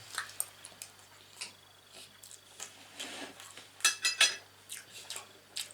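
Fork cutting fried sausage on a plate: scattered light scrapes and clinks of metal on ceramic, with a brief cluster of brighter clinks near the end, faint and close.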